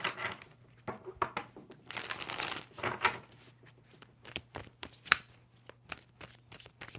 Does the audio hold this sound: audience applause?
no